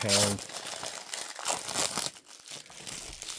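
Crackly cellophane is crinkled and torn off a later sale edition of the J-horror film Dark Water, bursts of close crinkling that stop and start, with someone talking over parts of it.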